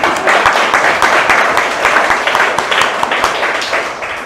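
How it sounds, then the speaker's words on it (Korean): A church congregation applauds together during a sermon, a dense, steady wash of hand claps that stays loud throughout and tapers slightly at the end. "한 번 더 박수."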